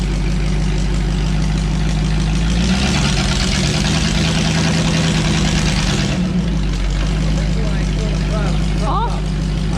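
A straight-piped Ford flathead V8-60 idles with a loud, low, steady rumble and a rough exhaust burble, with people talking over it throughout.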